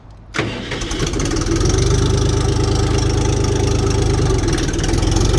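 A small mini tractor engine, a KENTAVR 244S, cranks and catches, then settles into a steady, loud idle that runs continuously and close by.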